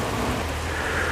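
Rain falling in the mountains at Mushkpuri near Nathia Gali, a steady, dense hiss of drops with a low rumbling undertone, continuous and fairly close, with no voices.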